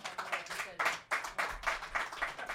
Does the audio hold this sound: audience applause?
yes